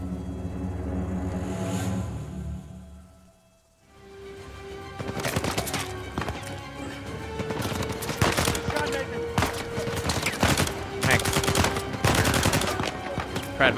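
Dense bursts of gunfire in the video game Uncharted 4, rapid rattling volleys and single sharp shots stacked together after a brief lull, loud and close with scattered game effects.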